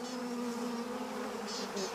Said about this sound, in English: A never-ending hum resonates from within the cleft.